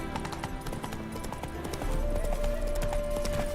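Roach the horse gallops in The Witcher 3, with rapid rhythmic hoofbeats close and steady throughout and a sustained tone joining partway through.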